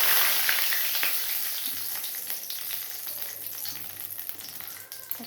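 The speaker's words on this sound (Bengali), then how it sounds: "পেঁয়াজটা ভেজে নিই" Onion frying in hot oil in a home kitchen, a steady close sizzle and crackle with faint spatters, alone with no talk.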